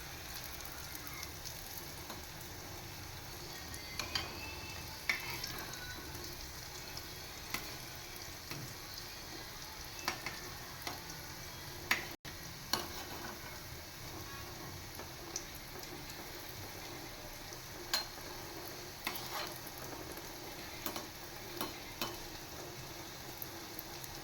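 Food frying in a pan over a low to medium gas flame gives a soft, steady sizzle with faint scattered crackles and pops throughout, fairly quiet and with no one talking.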